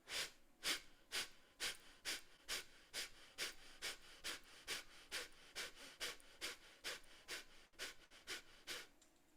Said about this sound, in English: Deep inhale and deep exhale.